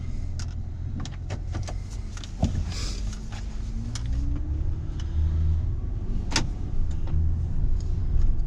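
Honda Odyssey minivan driving with its VCM cylinder deactivation disabled by a VCM Tuner II, giving a steady low cabin rumble of engine and road noise with occasional faint clicks and knocks and no talking.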